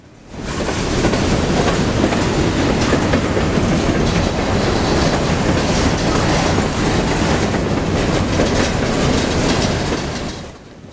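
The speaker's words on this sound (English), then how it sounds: "2 more IPD boxcars rolled through." Freight boxcars rumble past close by on the Iowa Interstate railroad with a continuous rolling roar and rhythmic clatter of wheels, steady and loud for the whole stretch.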